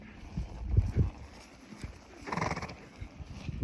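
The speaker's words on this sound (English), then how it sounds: "I got my big old bay horse to help us too" Hooves of a bay horse clip-clop in a few soft thuds, followed by a faint horse whinny, all fairly quiet and distant.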